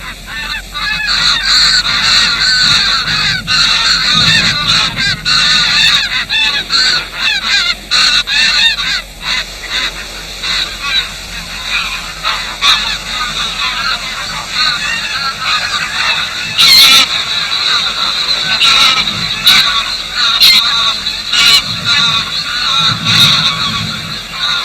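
Greylag geese honk in a dense, continuous chorus on an autumn croft in Uist, many overlapping calls loud and close, with rising bursts of excited honking through the stretch.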